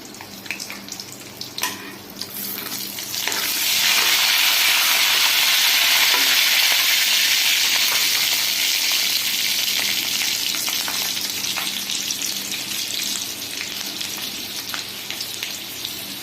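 Green chillies frying in a pan for mor kuzhambu, a steady loud sizzle that swells after a few seconds and holds, with faint stirring scrapes and no talk.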